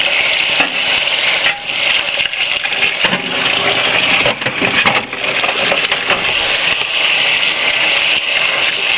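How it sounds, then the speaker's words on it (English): A PS2 motherboard is scrubbed with soap and water: a loud, continuous, close wet scrubbing and swishing with no voices. "Make sure to really scrub the motherboard right here."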